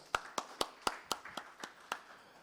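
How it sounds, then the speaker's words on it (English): A few people clapping for panel members at a dairy milk-testing conference, about eight sharp, evenly spaced claps in a sparse, fairly quiet burst that fades slightly toward the end. "Let's give them a huge round of applause."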